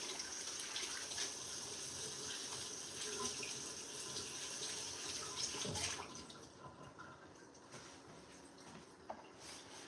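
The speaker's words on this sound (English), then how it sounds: "I'm just going to wash my hands." Running tap water splashes over hands in a sink, a steady faint stream that cuts off partway through, leaving a few drips and small clatters in a quieter room.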